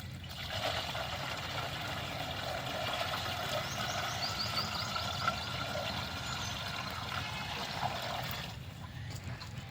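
Water pours steadily into a pesticide sprayer tank for several seconds, a continuous splashing rush that stops abruptly near the end.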